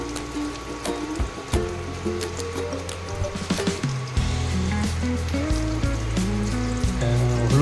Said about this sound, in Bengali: আর নুন মিশিয়ে সর্ষের তেলে দিয়ে আমি ইন্ডাকশানে দিয়েছি।